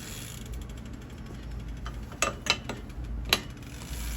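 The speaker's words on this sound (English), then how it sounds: "you're gonna grab pedal wrench. Gonna tighten this up." A pedal wrench tightens a pedal on a 26-inch Kink Drifter bike, giving a few sharp metallic clicks and ratcheting creaks in quick succession over a low room hum, close and fairly quiet, with no talk.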